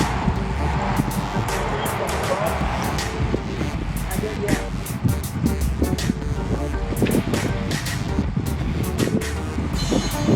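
Gusty northeasterly wind of about 18 to 20 mph roars across an exposed road while a cyclist rides behind a companion. The constant, loud rushing buffet has frequent clicking and ticking from the bike mixed in.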